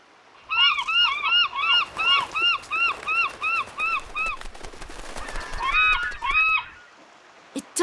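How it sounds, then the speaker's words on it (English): Cartoon seagulls in an animated wildlife ranger show give a rapid series of repeated squawking calls, close and loud, with a second burst of calls after a brief pause. "Now there are more seagulls."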